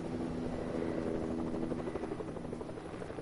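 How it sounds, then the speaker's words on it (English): A helicopter in the video game Fortnite, a steady close rotor drone with a rapid thumping pulse that holds at constant loudness throughout. "Helicopter, watch out."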